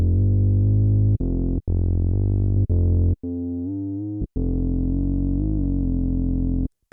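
A wavetable synth bass called Bass Enough, with a second wavetable layered on top for extra harmonics, plays sustained, fairly loud notes with a few short gaps and a pitch shift partway through. No voices, just the bass alone for tech house.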